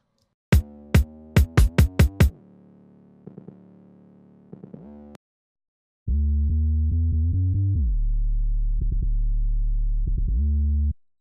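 An 808 bass soloed through BX Saturator V2 distortion in an EDM mix: a quick run of sharp plucked hits, a few quiet stabs, then a loud, sustained distorted bass tone that shifts pitch and holds for several seconds, with no voice.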